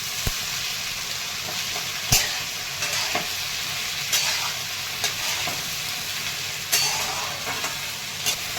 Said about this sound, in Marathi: भेंडी टाकून घेते लसूण छान परतला का भेंडी टाकते